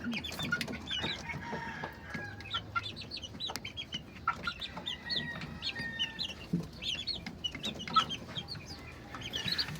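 Chickens and chicks cluck and cheep continuously in a farmyard, with many overlapping chirps and soft clucks close by and no talking.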